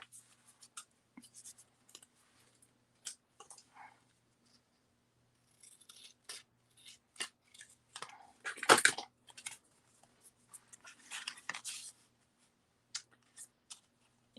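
Scissors snip and rustle through card paper while trimming a handmade greeting card, giving scattered short cuts and soft paper handling that are close and fairly quiet, with no talking.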